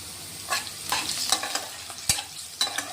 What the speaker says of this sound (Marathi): कांदे टाकतोय आपण. कांदे कट केलेले 2 मोठे कांदे घेतले.